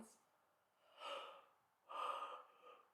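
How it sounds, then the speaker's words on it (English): A person yawning during a seated kundalini yoga practice, two drawn-out breathy exhalations with a soft voiced sigh, close and quiet with no talking. "Oh, I've been wanting to do that yawn for a while"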